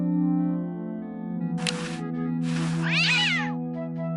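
A cartoon cat in the adventure game Day of the Tentacle meows loudly several times over steady game music, the last call a drawn-out, wavering yowl.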